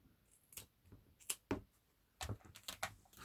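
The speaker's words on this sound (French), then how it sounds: "On va couper là." Scissors make a few quiet, separate snips close at hand, spaced irregularly, while a small craft magnet or frame made from popsicle sticks is trimmed.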